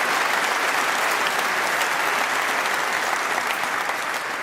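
A snooker audience claps after a shot in a Ronnie O'Sullivan match, dense sustained applause that runs loud through the whole stretch and eases slightly near the end, with no voices over it.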